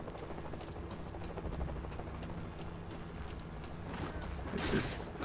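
A small helicopter in Lego Jurassic World gives a steady, quiet rotor chop that runs continuously through the scene, soft and somewhat distant, with a brief louder swell near the end.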